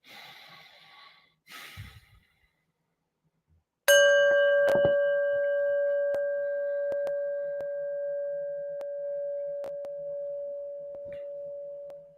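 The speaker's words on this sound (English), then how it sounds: "So let's take a listen to the bell." After a couple of soft breaths, a single bell is struck once and rings out clearly, its pure tone slowly fading over several seconds.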